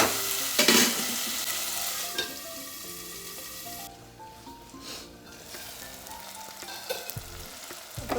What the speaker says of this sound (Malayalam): ഇതിലേക്ക് തക്കാളി ഉള്ളിയിട്ട് കൊടുക്കാം കേട്ടോ